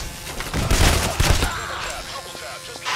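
Rapid bursts of gunfire in the co-op heist shooter Payday: The Heist, loud and dense in the first half with heavy volleys, then thinning into scattered shots under lingering game noise.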